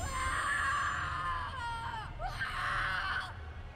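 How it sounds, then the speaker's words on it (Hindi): Screams of a person surrounded by evil spirits, drawn-out high cries that rise and break off, loud and close over a low rumbling background. "उसके बाद बस उसकी चीखें सुनाई दी।"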